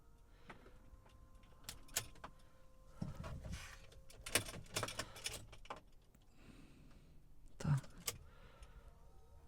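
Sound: electric Volkswagen Transporter van powering on with key

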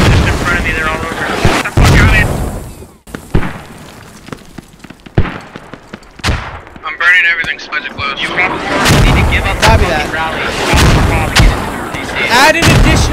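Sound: mortar rounds firing in tactical squad video game

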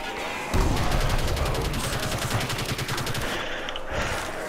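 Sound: gunfire from a gun in a video game (Custom Zombies)

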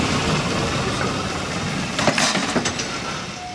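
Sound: uncoupled locomotive running past on track 2

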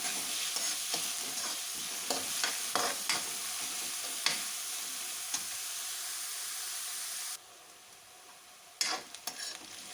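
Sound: onions frying until light golden

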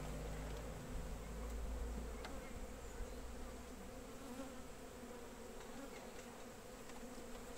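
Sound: honey bees buzzing around hives

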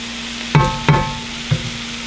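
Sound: food frying in a cast iron pan

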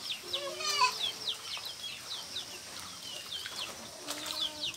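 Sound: farm chickens clucking

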